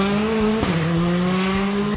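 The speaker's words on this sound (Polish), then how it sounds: "kierowca leci drogą niewiele szerszą od samochodu z prędkością dochodzącą do 150 km na godzinę" A car speeding at up to about 150 km/h along a narrow road barely wider than the vehicle, with a loud, close engine whine that holds steady, dips in pitch mid-run and then climbs again, with no voices.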